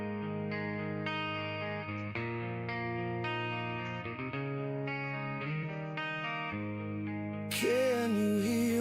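Indie song reworked by AI from an original recorded on a Fostex X15 tape deck, playing as a continuous layered tonal mix with steady harmonies, a brief low dropout near the middle and a brighter, louder swell at the end.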